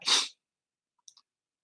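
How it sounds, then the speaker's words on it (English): One sharp, close sneeze bursts out, followed by near silence and a couple of faint tiny sounds. "Presently, Peter sneezed."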